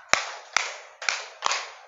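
A group in a teacher training session claps in unison five times in a counted rhythm, sharp and evenly spaced, each clap followed by a short ringing room decay, with no talking.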